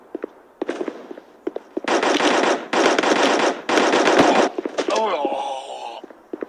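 Rapid automatic gunfire from the mobile shooter Guns of Boom, fired in three long sustained bursts with a few single shots around them and game sounds at the end, loud and close.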